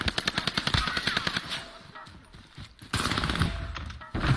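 Rapid bursts of automatic gunfire ring out in a shooter video game on the Fortune's Keep map, with loud, close, rhythmic volleys that break off briefly before heavier firing resumes.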